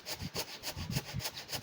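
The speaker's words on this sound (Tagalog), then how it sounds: "Ayan po, naglalagari tayo, umiipit ang lagari dahil sa riwa." A hand saw cuts through fresh, moist mango branches and binds in the wet wood, producing steady rasping back-and-forth strokes about three per second, close and fairly soft.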